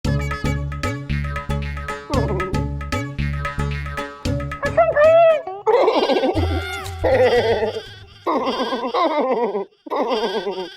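A man imitates a goat in a comedy courtroom scene, letting out a series of loud, wavering bleats in bursts, close and prominent, with music or other sounds early on.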